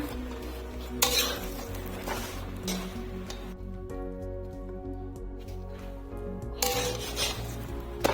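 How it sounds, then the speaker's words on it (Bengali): Naan roti frying in a pan is flipped and turned, with clattering pan and utensil knocks and scrapes in bursts over a soft sizzle, close by and without talk. "উল্টা পাল্টা করে ভেজে নিব অত লাল করব না"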